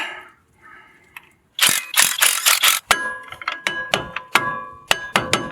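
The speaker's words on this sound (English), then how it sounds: "Using a 21mm crescent wrench, hold the little tab in place and get the bolts off." A 21mm crescent wrench working brake bolts loose on the rear brakes of a 2016 Ford Transit-150, giving a run of sharp metallic ratcheting clicks and knocks in uneven bursts after a quiet start.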